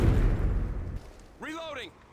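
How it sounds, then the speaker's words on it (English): Heavy rumbling blasts from an airstrike in Call of Duty: Modern Warfare 2 fill the first second, followed by quieter ambience and a short spoken in-game voice line. "Friendly airstrike inbound."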